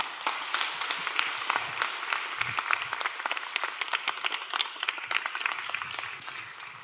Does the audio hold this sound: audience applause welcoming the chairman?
yes